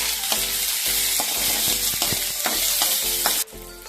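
Garlic and chopped onion fry in hot oil for lemon chicken, a loud, close, continuous sizzle broken by repeated scraping strokes of a stirring spoon, with no voices.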